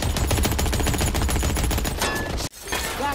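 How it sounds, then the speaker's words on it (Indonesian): Rapid automatic gunfire and scattered shots rattle loudly and continuously through a film shootout where a gang ambushes a group, broken by a sudden brief drop in sound before the firing and debris resume. "Dalam aksi baku tembak itu, Hudson berhasil melumpuhkan 2 orang dari ke"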